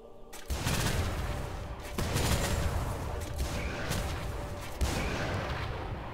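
Jhin's ultimate in League of Legends firing shots, a dense sustained barrage of booming, gunfire-like blasts with a few sharper onsets, loud and close throughout.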